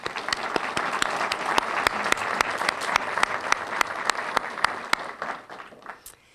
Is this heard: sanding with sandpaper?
no